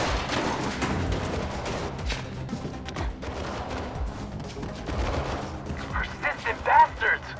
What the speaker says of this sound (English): Persistent bastards! Won't stop shooting.